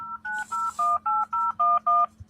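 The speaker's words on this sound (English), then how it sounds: "You think people can hear those tones and figure out the number?" Telephone keypad dialing tones, eight short, even, loud beeps in quick succession, each a clean two-note tone, with faint chatter behind.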